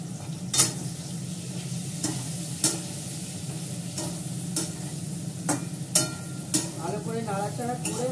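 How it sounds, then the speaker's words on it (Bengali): Spices fry with a steady sizzle in a pan while a utensil stirs them, sharp scraping knocks recurring every second or so over a low background hum. "এবার এতে নাড়বো।"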